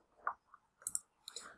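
A computer mouse double-clicked while setting up a database, two quick close clicks heard near and fairly quiet, with other faint clicks around them.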